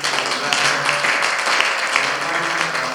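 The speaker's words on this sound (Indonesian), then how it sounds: "Tepuk tangan dulu untuk Pak Mas." Brief burst of applause from an audience at a cultural workshop, a dense, close patter of clapping filling the whole moment without speech.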